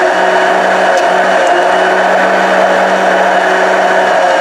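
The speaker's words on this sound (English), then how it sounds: "We're going to take the hand immersion blender or bar mix, and we're going to blend this down so that there's no lumps of the onion or garlic in there" A hand immersion blender whirs steadily as it blends a hot BBQ sauce with onion and garlic until smooth, giving a loud, unbroken motor drone with no talking.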